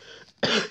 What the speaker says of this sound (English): Oh, I have that irritating cough coming back.